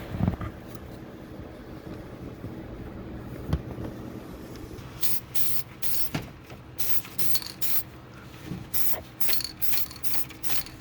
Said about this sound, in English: I'm just going to respray paint that.